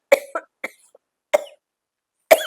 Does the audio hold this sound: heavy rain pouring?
no